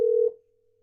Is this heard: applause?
no